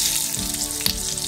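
Curry leaves hit hot oil for a Kerala-style chicken curry, giving a loud, close, continuous sizzle with a faint stirring scrape partway through.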